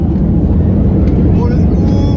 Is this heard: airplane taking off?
yes